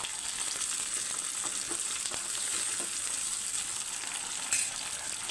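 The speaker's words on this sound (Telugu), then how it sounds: "ఆనియన్ వేగిందండి. ఇప్పుడు టమాటాలు కూడా వేసేసుకుందాం." Onions and tomatoes frying in a pan for a salna curry hiss in a continuous, even sizzle at moderate level, with scattered soft pops and a brief bump near the end, and no speech.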